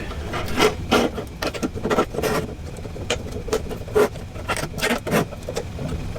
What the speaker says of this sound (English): now we'll take the puzzle and we'll carefully place it inside the cube.